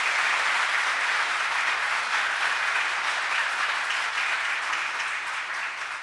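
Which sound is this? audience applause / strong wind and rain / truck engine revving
audience applause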